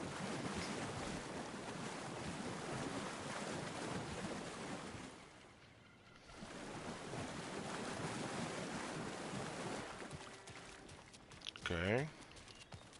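Water in the Alan Wake video game washes and surges continuously like surf, with wind-like rushing. It dips briefly midway, then returns with a short swell near the end.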